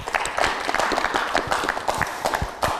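Lively studio audience applause on a Kyrgyz dating show, a steady patter of many clapping hands at moderate loudness for nearly three seconds.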